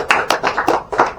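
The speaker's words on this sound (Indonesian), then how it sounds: "Kita berikan tepuk tangan buat mereka." A few people clap for a youth group at a meeting, with about five distinct, close hand claps in an irregular rhythm, brief and fairly loud.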